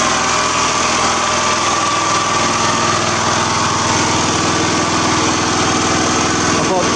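Small engine running continuously on a torrefaction system fed with gas through an air valve, a loud, steady high-pitched drone with a constant buzzing hum that never lets up.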